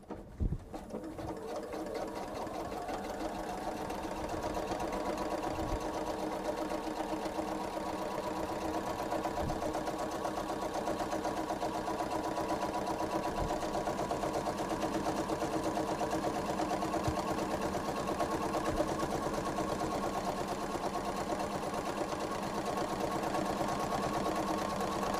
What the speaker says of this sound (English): now I am going to do another stitch 1/4 of an inch away